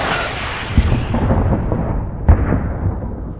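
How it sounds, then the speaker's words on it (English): Ukrainian artillery fire in wartime combat, heard as a continuous low rumble broken by two heavy, booming impacts about a second and a half apart, loud and close with no voices. "Ukrainian artillery kicks in once more"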